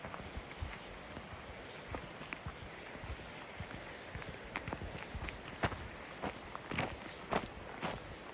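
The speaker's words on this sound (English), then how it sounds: "We're walking back through this side trail on the outskirts of 23D." Footsteps crunch along a forest side trail near a creek campground, an uneven walking rhythm of soft close steps over a low steady background hiss.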